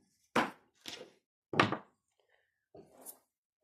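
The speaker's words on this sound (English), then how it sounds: "I'm going to cut myself some half round wire." Four dull, separate snips come from cutters cutting half round jewelry wire for a wire-wrapped pendant, close and fairly soft, with quiet gaps between them and no voices.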